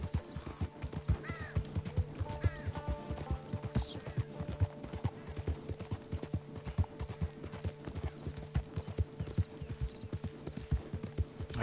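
Rapid, regular clip-clopping of horse hooves in the game Red Dead Online, a close and continuous gallop-like patter with a short whinny early on and light outdoor ambience.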